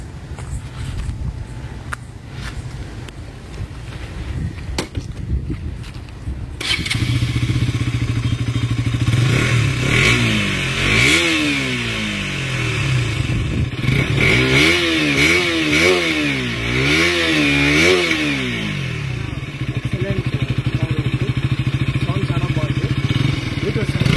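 A KTM RC 200 motorcycle engine starts after a stretch of quiet, settles into a steady idle, then is revved in repeated rising and falling bursts close by.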